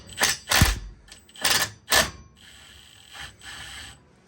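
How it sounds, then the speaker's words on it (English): A socket wrench works the flywheel bolt on a 77-year-old vintage Johnson outboard, a series of sharp metallic ratcheting bursts, about six close and loud clusters of clicks separated by brief pauses, the last few softer. "I'm removing this bolt and it's actually lifting the flywheel off for me"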